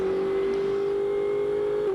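A GT race car engine at Brands Hatch holds a steady, high droning note as the car goes through Hawthorn corner during Blancpain GT Series practice. The note dips slightly at the end and is heard alone, with no talk.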